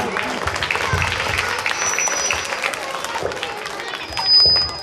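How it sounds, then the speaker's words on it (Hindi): An audience at a Republic Day celebration claps after a patriotic performance, a dense wash of applause with some cheering that swells near the end, mixed with crowd voices. "शानदार प्रस्तुति के लिए एक बार जोरदार तालियां"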